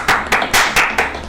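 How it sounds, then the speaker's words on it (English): Five sharp hand claps in a steady, slightly uneven rhythm, close and fairly loud, from a single person during a 1920s Cthulhu tabletop role-playing session. "I start clapping."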